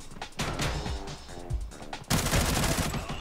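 Gunfire in the shooter game Arena Breakout, several dense bursts and rapid volleys of shots, loud and close, with a heavier bout of firing toward the end.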